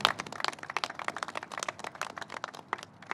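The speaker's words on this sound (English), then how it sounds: "Let's give them a round of applause." Outdoor crowd applause for the workers building the Tappan Zee Bridge, at a cold-weather construction ceremony: a dense, steady patter of many hands clapping at moderate distance, continuous and fairly quiet, with no voices.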